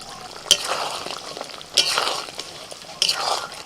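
Chicken with mango sautéing in a pan on low heat, a soft steady simmering bubble punctuated by three sharp clinks of a utensil against the pan, close and quiet, with no talking.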